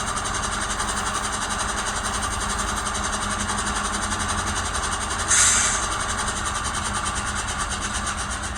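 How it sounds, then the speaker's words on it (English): Scale sound decoder in a ScaleTrains Rivet Counter HO model of a Norfolk Southern AC44C6M diesel locomotive, its air compressor running in a steady chugging rhythm over the idling engine loop, with one brief louder hiss partway through. "You can see the air compressor coming back on again here."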